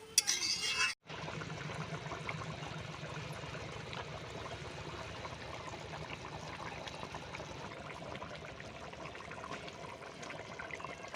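Water poured into a pot of mutton green pea ghugni, a soft continuous trickling and bubbling that runs steadily and fairly quietly after a brief louder noise and pause at the start.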